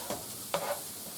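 Ground beef with Sriracha Tamari sauce sizzles faintly in a pan, with two short stirring scrapes breaking through the quiet fry.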